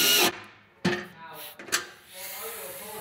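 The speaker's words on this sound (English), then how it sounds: "for the inner one, we're going to use a swivel on the ratchet" A ratchet works on running board bolts under a 2019-2021 GMC Sierra or Silverado double cab, giving a few short sharp clicking bursts close by, with pauses between them.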